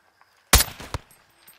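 Sniper rifle shots in Call of Duty Modern Warfare 2, a sharp loud crack followed by a smaller report and another shot at the end, with near silence between.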